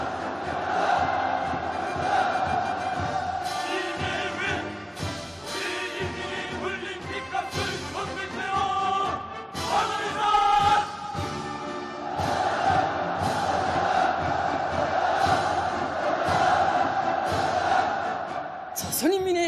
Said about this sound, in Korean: 전체 참가자들의 끓어오르는 복수의 열기를 분출시키는 구호들과 원수 경멸의 함성이